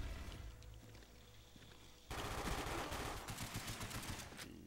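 Automatic gunfire in Call of Duty: Black Ops during a Search and Destroy match, a dense rattling stream of shots that starts quietly and then jumps louder and continues without pause, with no speech over it.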